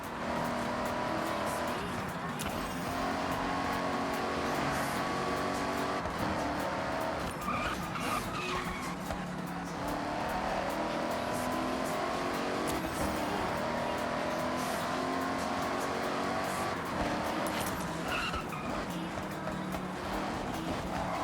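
Race cars in Forza Horizon 6 roar around the track with engines revving hard and tires squealing through the corners, loud and continuous, with shifting pitch as the cars accelerate and brake.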